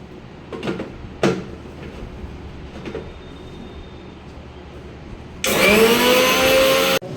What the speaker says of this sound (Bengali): চলো আগে এই তিলটা বেটে নিই